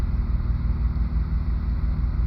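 A van engine idling with the air conditioner running, a steady low rumble that stays even and close throughout, with no talk over it.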